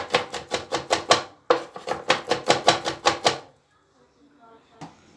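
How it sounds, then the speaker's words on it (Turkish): A knife chops onions on a cutting board in fast, even bursts of sharp, close knocks, two runs of about eight strikes each, followed by a short quiet pause and one last knock. "ben bıçağımın arka tarafıyla üzerine böyle vurdura vurdura daha da küçültüyorum soğanlarımı"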